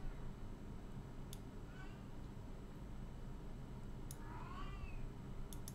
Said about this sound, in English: Of course, the cat decides to whine.